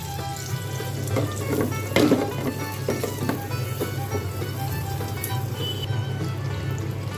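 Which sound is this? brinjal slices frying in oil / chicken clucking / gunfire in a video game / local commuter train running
brinjal slices frying in oil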